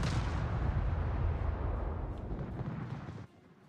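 A torpedo hit on a warship in World of Warships, a deep rumbling blast that rolls on for about three seconds before cutting off abruptly, heard alone.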